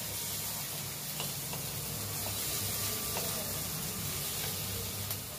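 Masala seasoned with Kashmiri chili powder fries in a pan for a Bengali doi katla fish curry, giving a continuous, close sizzle and hiss with no pauses.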